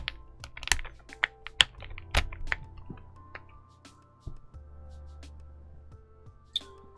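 Stabilizers on an Ajazz AK35i V3 Max full-size gasket-mount keyboard are pressed one after another, giving sharp close clicks and clacks with short gaps between them, plus a faint background hum.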